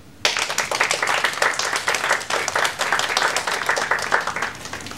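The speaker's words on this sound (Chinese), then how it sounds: "让我们掌声欢迎他们" A crowd at a jewelry company's press conference claps to welcome the chairman and sales director. The applause starts sharply after a brief quiet moment, then carries on as loud, dense, close clapping of many hands for several seconds.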